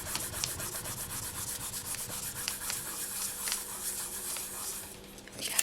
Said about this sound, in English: just going to take this, pop it down, burnish that on